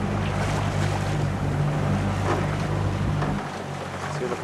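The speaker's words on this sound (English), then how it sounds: "Coming in behind the iceberg because it gives me a little bit of a break from the waves and wind." Sailboat off the Newfoundland coast sheltering behind an iceberg, with steady wind buffeting the microphone, waves washing against the hull and a low engine hum underneath that drops out near the end.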